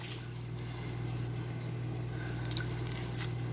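Citrus halves squeezed by hand into a bowl of water for preparing a duck, with soft continuous wet squishing and dripping close by over a steady low background hum.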